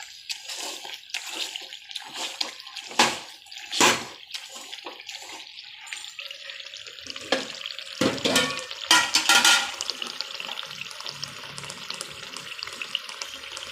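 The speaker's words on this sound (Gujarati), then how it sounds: "ઓરાને આવી રીતે આમ ઘૂંટી નાખવાનું" Oro, a Gujarati curry of roasted vegetables with tomato and onion, being stirred and mashed in a pot, with wet squelching and scraping strokes in irregular bursts, close and fairly loud, and no talking.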